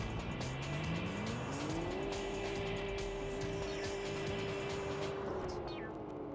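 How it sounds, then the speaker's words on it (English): A Toyota Supra race car in Tokyo Xtreme Racer 3 on PS2, its engine droning steadily and rising in pitch before holding a sustained note, with a brief tire-squeal edge over continuous road noise. "It's a Supra."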